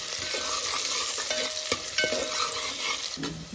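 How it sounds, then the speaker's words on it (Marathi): Onion sizzling in hot oil as it is stirred for a crab curry, a constant close hiss broken by sharp scraping and clinking spoon strokes against the pan, no speech. "तेल गरम झाला तसं आपण आता कांदा टाकून घेऊया पहिलं"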